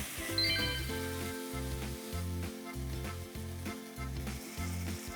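Ginger pork shogayaki sizzles in a frying pan with a steady, close hiss, partly under a loud, rhythmic music track playing throughout.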